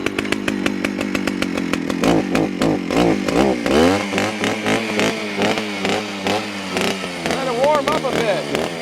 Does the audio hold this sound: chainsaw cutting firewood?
yes